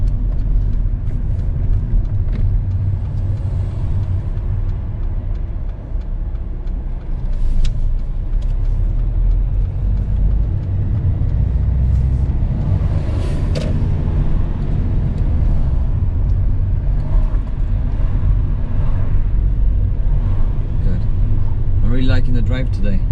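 Car driving during a UK driving lesson, a continuous loud low engine and road rumble with a few faint clicks and knocks, while people talk over it near the end.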